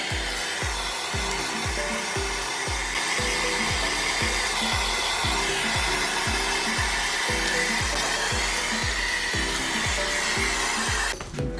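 A torch or heat gun roars steadily and loudly as it reheats a Porsche 911 shift rod for cold bluing, with a rhythmic pulsing in the low end throughout.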